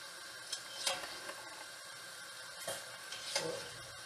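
Paneer, chicken and bread pakora batter sizzles and spits in hot oil at home, a steady quiet frying hiss with scattered louder crackles and stirring clinks.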